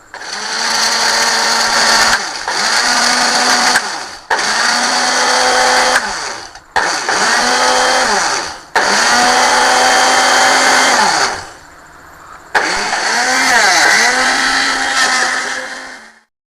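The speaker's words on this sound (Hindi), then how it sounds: "तो अब ये मैं पीसने लगी हूँ गरम मसाला, और इसे बारीक ही पीसना है" An electric spice grinder pulverising whole garam masala spices, running in loud, close bursts of roughly two seconds each, cutting off abruptly between pulses, with one longer pause before a final burst.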